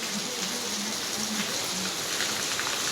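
A heavy evening downpour hisses loudly and evenly, close by and unbroken, with no voices over it.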